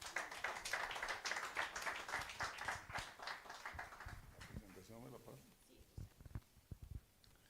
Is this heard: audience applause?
yes